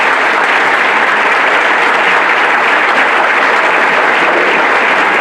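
Loud, dense applause from a college convocation audience welcoming a guest speaker, a steady wall of clapping that holds evenly throughout with no voices over it.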